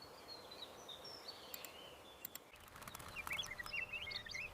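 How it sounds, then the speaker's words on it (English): Birds calling warnings in a forest, a scatter of high chirps and short calls over a faint hiss of background, thin and fairly distant at first, then busier toward the end. "Birds call warnings."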